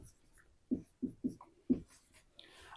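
A marker or chalk taps and strokes on a board in a few distinct, close bursts, with short pauses between the strokes.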